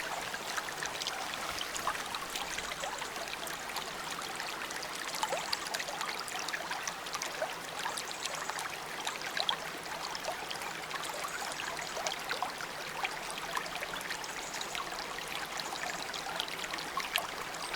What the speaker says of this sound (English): The water from the fairy pool is running down into this stream